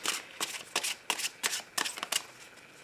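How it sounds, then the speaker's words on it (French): A deck of tarot cards is shuffled for a reading in a run of crisp riffling bursts, close up and evenly spaced, with no voices over it. "je vais commencer mon tirage avec le tarot"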